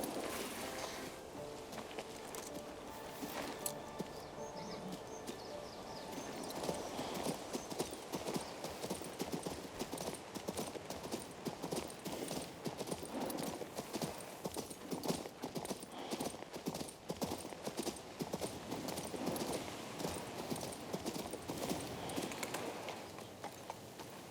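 Rhythmic clip-clop of horse hooves at a steady trot in the video game King's Bounty II, continuous and fairly close, with a faint background ambience.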